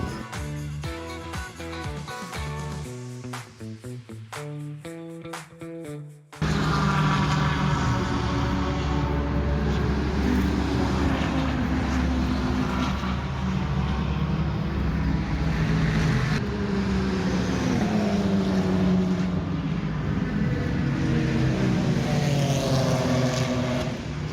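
GT3 and GT4 race cars at the Paul Ricard circuit, a loud sustained engine roar with rising and falling revs as cars pass close by, preceded by a few seconds of tonal music-like sound before the track noise cuts in.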